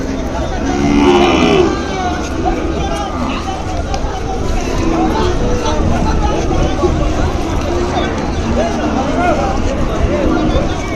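Ongole cattle lowing repeatedly amid a noisy crowd at a bull market in Kodad, with voices chattering and general market bustle throughout.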